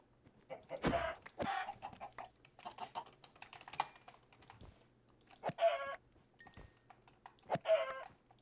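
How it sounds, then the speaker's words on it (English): Many chickens cluck in a video game, with short, scattered bursts at moderate volume, mixed with keyboard typing, and no one speaks. "It's a lot of chickens."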